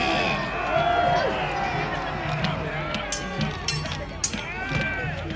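A crowd at a Battle of Hastings reenactment cheers and shouts in a sustained roar of many overlapping voices, with scattered louder yells and clatter rising above the din.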